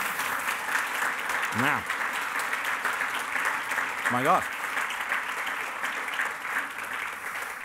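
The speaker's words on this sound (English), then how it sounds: "Our thanks and applause to our panel of judges" Steady applause from an audience at a science book prize award event fills the whole stretch, with a couple of brief voiced exclamations rising above the clapping.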